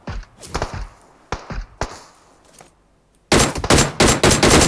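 Automatic gunfire in a multiplayer shooter game, several short bursts in the first half, then a quiet gap and a dense, loud sustained volley of rapid shots near the end.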